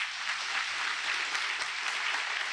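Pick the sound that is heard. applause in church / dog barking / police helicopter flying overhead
applause in church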